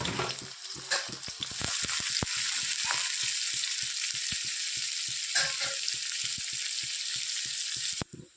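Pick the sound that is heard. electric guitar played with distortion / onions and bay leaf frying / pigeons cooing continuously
onions and bay leaf frying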